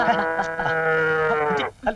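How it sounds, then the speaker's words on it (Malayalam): A cow lows inside a cowshed: one long, drawn-out, loud call held close by for over a second and a half, followed by a brief fainter sound. "പശു ഒന്ന് മാറ."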